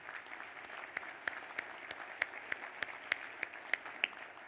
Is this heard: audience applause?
yes